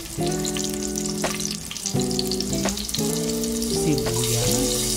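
Garlic hits hot oil in a frying pan with a steady crackling sizzle, under a few ringing metallic pan knocks and scrapes.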